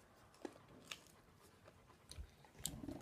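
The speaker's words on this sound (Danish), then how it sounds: "Så skal vi tage en bid af chilien." Someone bites into a chili pepper and chews, giving a few sharp crunchy snaps followed by soft, close mouth sounds, with no talking.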